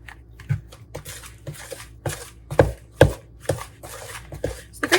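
Cookie dough being mixed by hand, heard as a series of close, irregular thick thuds and scraping knocks in a quick uneven rhythm.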